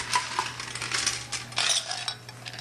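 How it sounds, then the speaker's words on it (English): Ice cubes clatter and clink into a metal cocktail shaker, a busy run of close, hard rattling hits with no voices. "fill my shaker with ice here"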